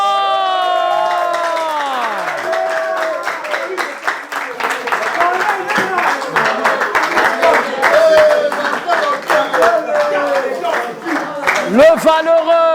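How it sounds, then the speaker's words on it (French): A loud crowd at a dance show semi-final claps, cheers and whoops, with dense applause and shouting voices sustained throughout and an announcer talking over it. "On applaudit très fort."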